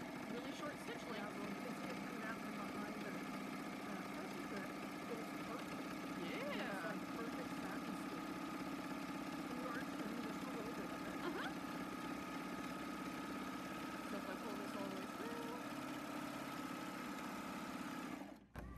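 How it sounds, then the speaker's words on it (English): A sewing machine stitching slowly with a very short stitch length, giving a steady low mechanical hum and rapid rhythmic whir that runs continuously for many seconds before stopping abruptly at the end. "So we are just gonna start sewing here. And it goes real slow because there's really short stitch lengths."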